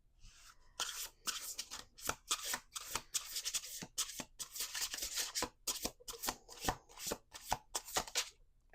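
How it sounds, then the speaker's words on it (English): Playing cards being shuffled repeatedly during a tarot-style reading, a run of crisp riffling bursts and sharp flicks with short pauses between, close and fairly quiet, with no talking. "We're going to do 2 more shuffles."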